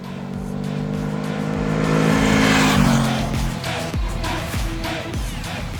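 Engine of a 2021 Honda CB500X motorcycle riding on trails and broken roads, a steady loud drone that swells to a peak midway and then eases, with no talk over it.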